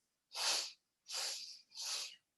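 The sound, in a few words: long forceful exhalation with a ha sound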